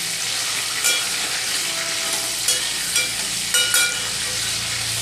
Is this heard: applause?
no